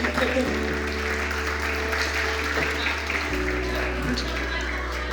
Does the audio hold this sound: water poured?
no